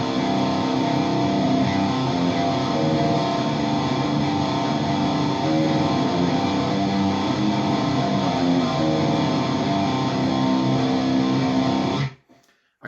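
Distorted electric guitar picks an intro riff with fast, continuous tremolo-style picking, loud and alone for about twelve seconds before stopping abruptly.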